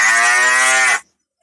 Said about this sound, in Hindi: तुम गाय को घास क्यों दे रहे हो?